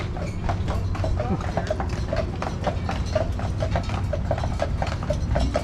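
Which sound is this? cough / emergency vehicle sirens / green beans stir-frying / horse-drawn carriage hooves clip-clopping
horse-drawn carriage hooves clip-clopping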